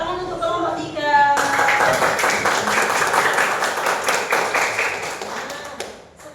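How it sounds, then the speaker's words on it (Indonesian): A grade 4 classroom of pupils claps together for group 3, a dense burst of quick hand claps starting after a short spoken moment and sustained for several seconds before tapering off. "Tepuk tangan untuk kelompok 3."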